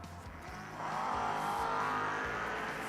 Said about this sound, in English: Chasing the equally beautiful Camaro of Dustin Carroll.